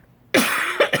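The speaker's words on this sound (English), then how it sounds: "excuse me for the cough." A person coughs close to the microphone, one harsh burst followed by two shorter coughs in quick succession, loud and alone after a moment of near silence.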